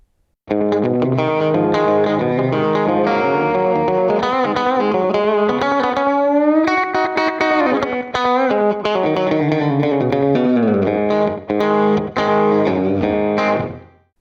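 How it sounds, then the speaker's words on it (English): Twangy electric guitar on a single coil pickup playing a bright country-style lick with bends and slides, loud and continuous for several seconds, no talking. "the single coil pickup, because that's more what I would traditionally use to get the twangy country sound"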